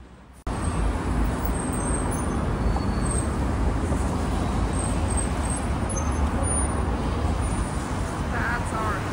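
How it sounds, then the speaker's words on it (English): Busy city intersection traffic in Wuhan, China, a dense continuous roar of cars, buses and trucks with engine rumble and passing vehicles, loud and close, with faint brief higher tones like distant horns or brakes. "It looks like a very busy traffic intersection."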